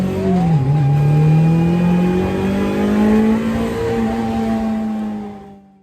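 Race car at Brands Hatch accelerating hard, a loud close engine note climbing through the gears with a dip at a shift, then sustained high revving before cutting away at the end.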